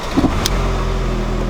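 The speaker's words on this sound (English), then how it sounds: "Car seems to be running and idling really, really well." A Mk3 Golf with a new fuel pump relay starts with a short crank, then settles into a steady, close, loud idle.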